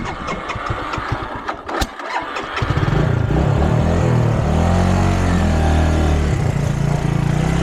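A Suzuki GZ250 motorcycle engine cranks with rapid chugging, catches at once and settles into a loud, steady close-up idle that runs to the end without dying.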